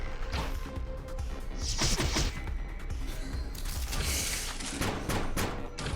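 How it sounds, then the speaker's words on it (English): Firecrackers attack in the video game Epic Battle Fantasy 5 erupts as a dense, continuous barrage of crackling pops and thuds over about six seconds, loud and busy with bright bursts, with no talking. "Firecrackers, and then we'll just let it rip and see what we get."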